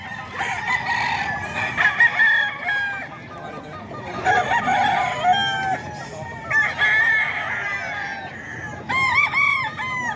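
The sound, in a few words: chickens and roosters crowing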